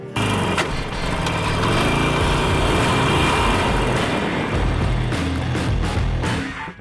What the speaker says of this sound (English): I wanna hear this engine roar